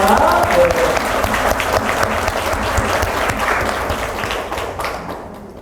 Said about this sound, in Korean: 이지한 리더님께 큰 박수 한번 부탁드리겠습니다.